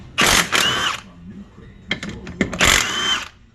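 A Ryobi cordless power tool spins off the 15 mm bolts on a Polaris Ranger Crew side-by-side wheel in two loud whirring bursts, with faint clicks between them.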